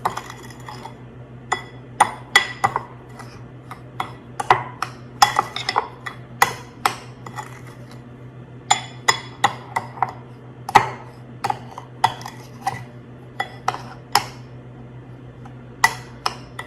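A spoon scrapes and clinks around a bowl of grapefruit sugar scrub, irregular close taps and gritty chinks recurring over a faint steady hum, with no voices.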